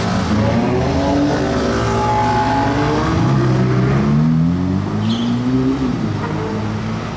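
A Ferrari sports car engine roars loudly as it accelerates, its pitch climbing through the gears with a brief shift, steady and close throughout.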